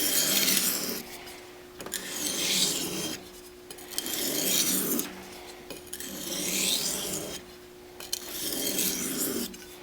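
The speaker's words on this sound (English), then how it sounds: "we just need to continue refining it and getting that up to a razor sharp edge" A high carbon steel San Mai petty kitchen knife is stroked across a sharpening stone in slow, even back-and-forth rasps, about five long scraping passes with brief gaps, close and clear.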